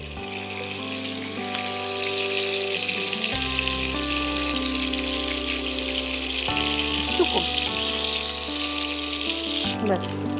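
A steady, loud sizzle of food frying in a pan for a Bengali shrimp chorchori with pumpkin greens, running unbroken throughout with a constant hiss.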